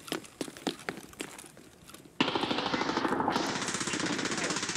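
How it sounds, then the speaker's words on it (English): Video game gunfire starts as a string of separate sharp shots, then breaks into a loud, continuous rapid-fire burst that hammers on steadily to the end. "there's shots over there"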